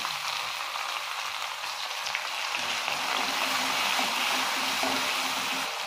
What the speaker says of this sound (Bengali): এবারে দিয়ে দেব এখানে এক কাপ পেঁয়াজ কুচি।